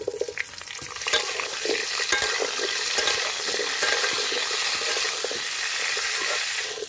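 Olives frying in a few spoonfuls of hot oil tempered with fennel seeds for a sweet-sour olive pickle, a steady crackling sizzle with irregular scraping stir strokes throughout, close and fairly loud, no talking.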